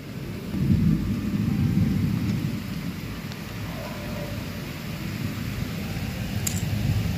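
Rain falls steadily with a low, rumbling roll of thunder or wind surging early on, then settles into a continuous soft wash of rain.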